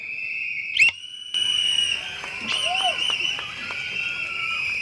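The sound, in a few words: man whistling loudly at a political rally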